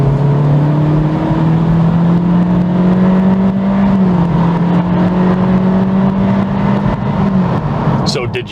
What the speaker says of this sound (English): Full throttle up the hill.